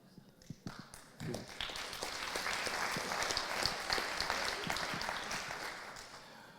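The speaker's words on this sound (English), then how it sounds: "What you're applauding for is yourself." An audience applauds after a new queen is proclaimed at a talk, a few scattered claps growing into steady, full applause that fills the room and holds near constant.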